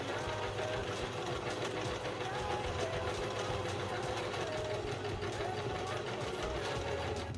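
Sewing machine running steadily with a continuous mechanical whir and rapid stitching rhythm, loud and close throughout, with a voice speaking over it, part of a cultural heritage society sewing showcase.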